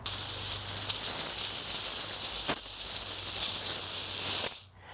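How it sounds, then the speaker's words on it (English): Steady broadband hiss of water spraying from a hose nozzle onto a hot compost pile being built, continuous for several seconds before cutting off abruptly at the end. "it's better to spray it down as you're building the pile"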